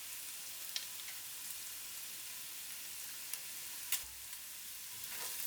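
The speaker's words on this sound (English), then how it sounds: "Once the onions and bacon are ready, add the garlic." Garlic frying in a pan with onions and bacon for beef goulash, a steady soft sizzle with a few faint clicks of stirring, close and continuous with no talking.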